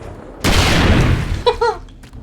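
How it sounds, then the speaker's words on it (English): A grenade blows up in the video game 7 Days to Die, one loud, close boom that rumbles and fades over about a second, followed by brief voices talking. "I just bounced a grenade off that guy."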